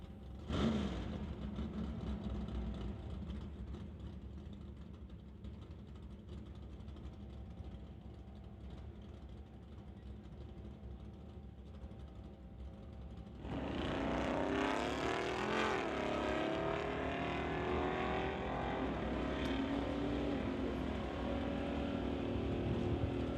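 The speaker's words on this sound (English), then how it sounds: "Ian McIntyre bringing it up in the 2011 BMW, going up against Glenn Fillingham in the 1968 AMX out of Coquitlam." A 2011 BMW and a 1968 AMX drag racing at a strip, a steady engine drone that swells into a loud, roaring surge of revving engines as the cars launch and pull away.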